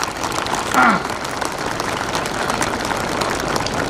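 Crowd at a Republic Day function for Walchandnagar Industries applauds steadily, a dense wash of clapping throughout with a brief faint voice early on.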